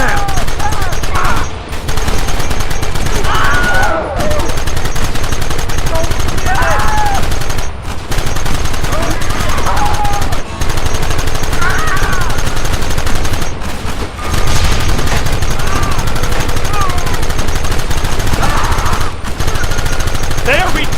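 Gunfire in the Western video game Red Dead Redemption on PS3: loud, dense volleys of rapid shots roll on almost without pause for about twenty seconds, with brief gaps and shouting voices mixed into the battle.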